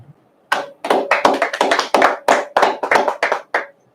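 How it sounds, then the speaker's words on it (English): Brisk hand clapping at a history class session, a dozen or so sharp claps in a quick, slightly uneven rhythm, loud and close, with no talking. "let's clap that up"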